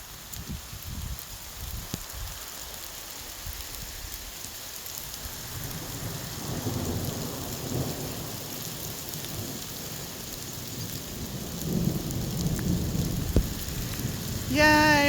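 Heavy rain pours down steadily outdoors, with low rumbling thunder rolling underneath and swelling louder toward the end.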